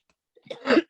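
A single sharp sneeze, a quick intake followed by a loud burst, close to the microphone in an otherwise quiet room.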